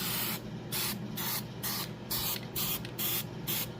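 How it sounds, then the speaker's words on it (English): Gorilla contact adhesive sprayed from an aerosol can onto the border of a cut-out lid, heard as about eight short, close hissing bursts with brief pauses between them and no talk. "spray the border"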